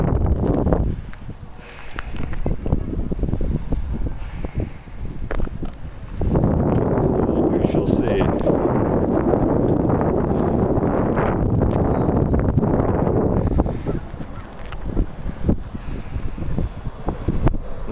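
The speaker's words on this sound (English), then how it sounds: "unfortunately, today is kind of windy." Strong wind at a model airplane flying field buffets the microphone in heavy, uneven gusts that roar and rumble for the whole stretch. No one speaks.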